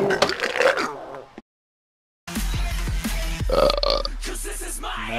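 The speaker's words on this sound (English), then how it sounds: "Nice burp." A loud, drawn-out burp in a mini golf game session, heard among chatter and game sounds, with a stretch of silence before it and lively voices overlapping around it.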